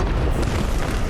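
Expelliarmus spell cast in Hogwarts Legacy, a dense loud magical blast that roars continuously for about a second at close range.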